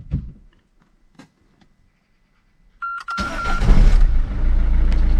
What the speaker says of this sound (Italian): Andiamo a fare il primo avviamento dopo aver installato la nuova